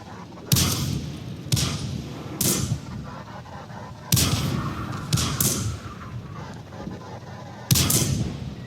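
Artillery barrage in World of Tanks on a Berlin map, loud separate booming shots spaced a second or more apart, each with a sharp crack and a rumbling tail, under a steady battle background.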